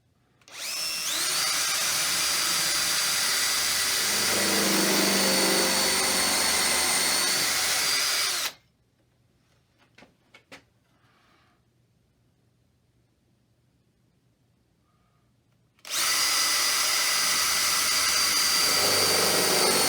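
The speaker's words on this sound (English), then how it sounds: "I'm going to drill the first 2 holes with the clamps in place." A power drill boring screw holes into a wood folding wine table with clamps in place, two long loud whining bursts separated by a quiet gap with a few small clicks.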